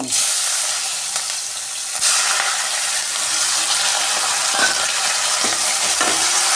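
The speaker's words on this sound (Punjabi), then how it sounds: "ਇਹਨੂੰ ਅਸੀਂ ਚੰਗੀ ਤਰ੍ਹਾਂ ਭੁੰਨਣਾ ਪਿਆਜ਼ ਨੂੰ ਉਦੋਂ ਤੱਕ ਭੁੰਨਣਾ ਜਦੋਂ ਤੱਕ ਇਹ ਬਰਾਊਨ ਨਹੀਂ ਹੋ ਜਾਂਦਾ" Chopped onion, cumin and green chilies fry steadily in a pan for Punjabi-style chana dal, a continuous close sizzle broken by scraping stirs and small clatters of the spoon, with no talking.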